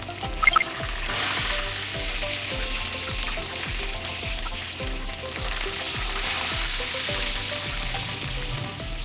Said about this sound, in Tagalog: kailangan lang natin prituhin yung fish